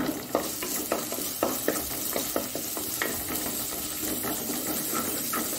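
Curry leaves hit hot oil in a pan while a Mangalore-style prawn gravy is being cooked, giving a steady loud sizzle punctuated by regular crackling pops and the clink of stirring.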